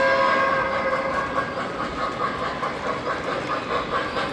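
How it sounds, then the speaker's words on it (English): Model train emerging from a tunnel on a layout, its steady rolling hum and rail clatter running loud and continuous with faint whistle-like tones over the top. "it really makes for some great scenes as the train comes out of the tunnel"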